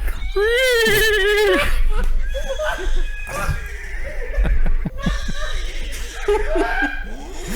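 A human voice imitates a horse's whinny, a loud wavering neigh near the start, then laughter and mixed voices carry on close by.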